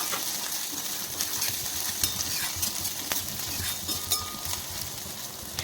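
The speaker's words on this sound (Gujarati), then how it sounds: "ઝીણી સમારેલી ડુંગળી અને લીલા મરચાં ઉમેરીને તેને પણ સાંતળી લઈશું" Finely chopped onion and green chillies sautéing in a pan for street-style veg Hakka noodles, a dense continuous sizzle with scattered stirring clicks and scrapes, close and steady, no speech.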